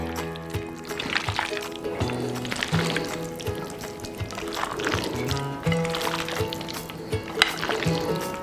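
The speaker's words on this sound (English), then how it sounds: "We're gonna mix everything thoroughly so that when it steams, all those flavors will be incorporated into the meat." Pork riblets being mixed by hand with black bean garlic marinade, wet squelching and sloshing with irregular clinks close up, steady throughout.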